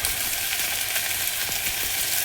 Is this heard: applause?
no